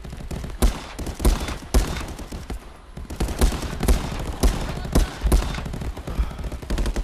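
Rapid gunfire in the Contractors VR game, with repeated bursts and single shots cracking close and loud in an uneven rhythm for the whole stretch, and no voices over it.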